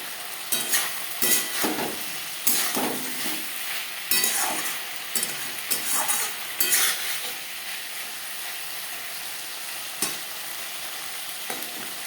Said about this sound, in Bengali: হাই টু মিডিয়াম ফ্লেমে 1-2 মিনিট নাড়াচাড়া করে দেব।